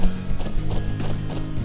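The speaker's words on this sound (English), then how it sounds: "Yeah, we are going on horses," Horse hooves clip-clop in a quick steady rhythm in the game The Legend of Heroes: Trails of Cold Steel, loud and close over a low tonal backing.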